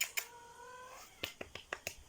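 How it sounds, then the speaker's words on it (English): A big pet cat named Toto gives a single drawn-out meow, followed by several soft, sharp clicks and taps nearby. "He just likes to meow and announce his presence every single time he walks into a room."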